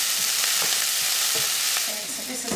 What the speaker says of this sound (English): remember that you discard the oil from the sausage into a little container to the side and add fresh olive oil to fry